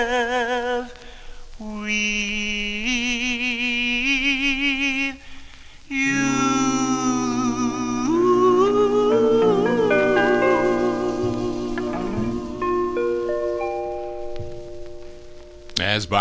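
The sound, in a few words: 1954 doo-wop record on Decca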